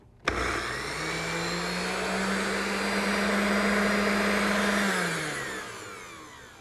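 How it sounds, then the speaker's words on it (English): A countertop blender mixes oats with lemon juice, motor kicking on abruptly and whirring steadily for several seconds before winding down, loud and close with no talk. "We're going to just take and blend this a little."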